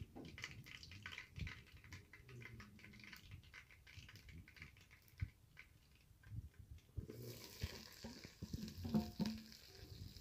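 Sliced onions frying in a pan for moong dal sambar, a steady close sizzle with stirring scrapes, rising louder in the last few seconds as more goes in.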